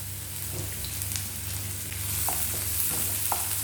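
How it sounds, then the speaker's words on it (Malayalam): Sliced onions sautéing in a pot for chicken sausage pulao, a steady close sizzle with occasional soft stirring scrapes, alone without talk. "അപ്പോൾ ബാക്കി സവാള നമുക്ക് ഇതിനകത്തിട്ട് ഒന്ന് ലൈറ്റ് പെയിൽ ബ്രൗൺ ആക്കി സോട്ട് ചെയ്തെടുക്കാം."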